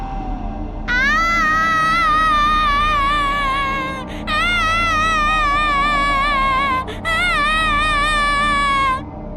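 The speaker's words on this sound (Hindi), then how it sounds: "अचानक पूरे गांव में किसी छोटे बच्चे के रोने की आवाज गूंजने लगी।" A small child's crying used as a horror-story sound effect: loud, high, wavering wails in three long sustained bursts separated by brief breaths, eerie and continuous.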